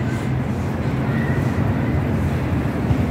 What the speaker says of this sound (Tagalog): Yan, humahangin.